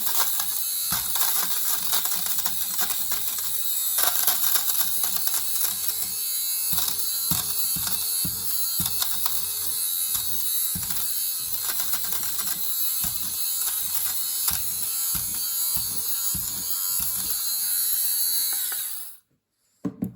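A Xiaomi Mijia electric lint remover buzzes over clothing, a close steady motor whir with rapid ticking and rattling as the blades catch fabric, running about nineteen seconds before it switches off.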